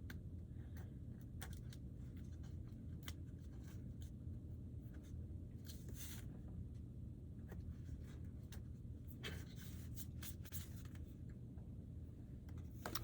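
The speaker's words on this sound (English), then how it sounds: "now I'm just cutting out the little pieces of scrapbook paper" Scissors snip scrapbook paper into small pieces for a magazine mosaic craft, a quiet run of irregular short cuts and rustles over a low steady hum, no talking.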